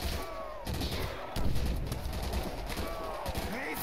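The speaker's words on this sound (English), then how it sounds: "Try to use up the Uzi." An Uzi submachine gun fires continuously in Call of Duty custom zombies, with dense rapid bursts forming a loud steady wall of gunfire throughout.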